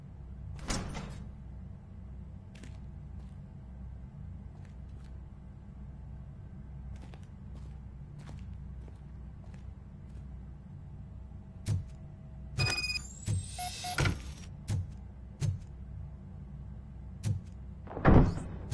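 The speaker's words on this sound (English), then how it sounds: "Now let me get that door open for you." Sliding door grinding open in the video game Robocop Rogue City, a mechanical rumble and clanks building late over steady low background drone.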